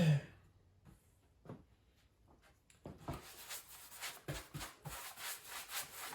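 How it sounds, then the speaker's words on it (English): Paint being brushed onto wood in uneven strokes, with soft bristle rubbing that starts sparse and faint, then turns into a steady run of closer, rhythmic swipes. "I'm putting it on with a brush because I want some brush marks, but I'm also not putting it on perfectly."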